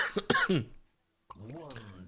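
A couple of sharp, close coughs in quick succession, followed by a pause and then a person speaking.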